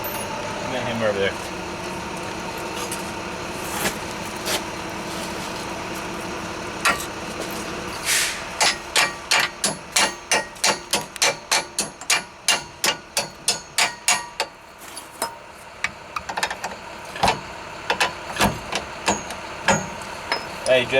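Repeated sharp metallic hammer strikes ring out while working on a Jeep TJ rear axle, starting sparse and then coming in a fast steady series, over a low engine hum with occasional talking.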